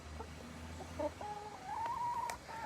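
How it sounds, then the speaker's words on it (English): Hardy Sex Link laying hens in a backyard cluck and murmur softly, with a few short clucks and a rising, drawn-out call over faint outdoor background, no talking. "Yeah, I got 6 chickens."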